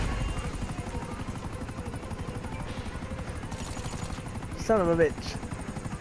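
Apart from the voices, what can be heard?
helicopters flying in a video game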